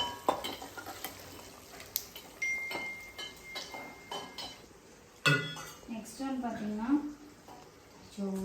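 Mustard seeds, cumin and fenugreek tempering in oil in a pan for a tomato pickle, giving light crackles under clinks of utensils and stirring while people talk nearby.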